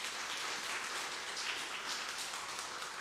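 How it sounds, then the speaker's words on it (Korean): A church congregation at Sunday worship claps in a dense, even wash of applause that stays steady for about three seconds. It sounds faint and distant, with no talk. "여러분 박수로 환영하겠습니다."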